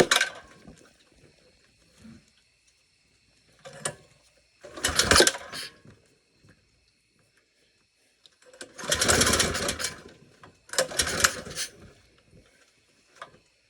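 A VM22 clone engine fitted with an exhaust pipe, stopped at a Buc-ee's, revs in loud raspy bursts, several spaced blips with quieter idle gaps between them, with no talk over it.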